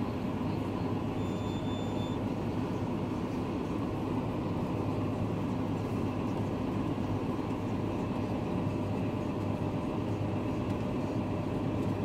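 A tractor drawing a direct seed drill through a field while sowing grain hemp, travelling at a reduced speed; a steady, loud engine drone and mechanical rumble run unbroken throughout, with no talking.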